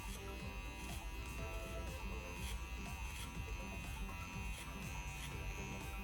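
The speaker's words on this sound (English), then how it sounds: "I'm moving my clipper away from the head towards me" A hair clipper fitted with a number 2 guard cutting hair, giving a continuous low electric buzz with faint rhythmic swishes as it moves, close but fairly quiet.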